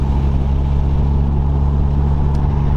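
A Mitsubishi Evo 3 with a short shifter, driven in fifth gear, heard from the cabin as a loud, steady low engine drone with road rumble and no change in pitch.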